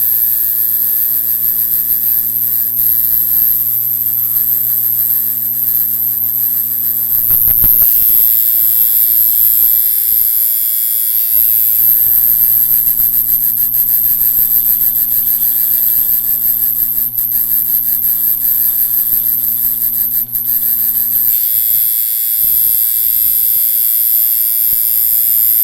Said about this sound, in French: quand on met le voltage derrière sur une machine à bobine